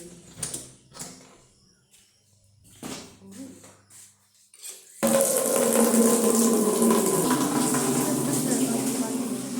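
Water runs from an outdoor tap at a home. Quiet clatter and a few soft voices come first, then the tap opens abruptly into a loud, continuous gush that runs steadily to the end.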